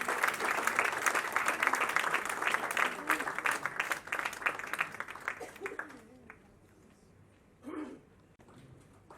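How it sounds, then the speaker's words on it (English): At a book launch, a crowd applauds actress Aditi Rao Hydari with dense, lively clapping for about six seconds, then it thins and fades, and a brief voice follows in a quieter room. "Round of applause, ladies and gentlemen,"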